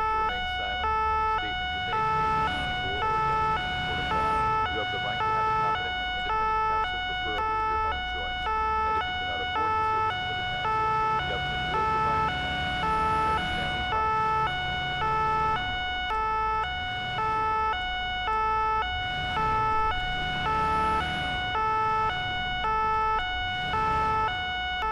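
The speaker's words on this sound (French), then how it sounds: "On va mettre les sirènes, j'espère que ça va pas être trop fort pour vous." Police car sirens wail continuously in the Police Simulator patrol game, a loud two-tone electronic siren cycling steadily over a low vehicle engine rumble, with no talking.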